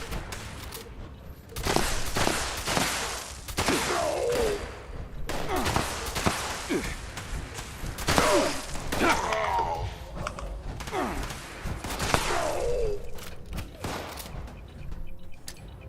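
Shotgun blasts and gunfire in the video game Fallout 76, repeated sharp loud bursts at irregular intervals with mechanical clicks and creaks of reloading between shots.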